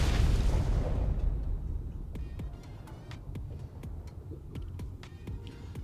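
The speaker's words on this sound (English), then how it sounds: "Finally, let's take a look at what a rocket can do." A rocket blast against a metal compartment in the game ARK: a loud burst opens, then a rumbling decay with a series of sharp crackling pops and debris hits trailing off.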